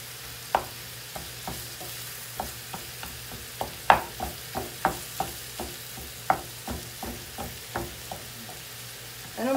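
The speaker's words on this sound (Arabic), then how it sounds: "وغادي نخلط كل شيء ونخليه ان شاء الله حتى يطيب." Kefta and vegetables stirred in a sizzling pan, with a steady run of sharp utensil scrapes and clicks every half second or so over a low continuous frying hiss, close and clear, no talking.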